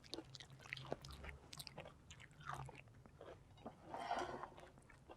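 A dog chews and bites persimmon close up, with soft, wet crunching bites coming irregularly at low volume.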